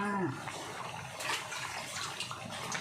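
Basil, spring onions and coriander being washed under running water to make larb, a soft, faint trickle and splash that continues throughout, with a brief voice at the start.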